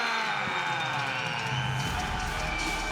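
A crowd cheers and roars for a Brazilian fighter introduced from the red corner at a small-gloves fight event, a dense, steady wall of sound that continues loud throughout.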